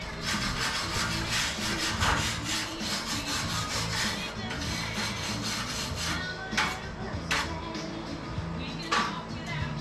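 A wire brush scrapes metal on a World War II jeep under hot-rivet restoration, a close, steady rasping scrub with rhythmic strokes and a few sharper scrapes near the end.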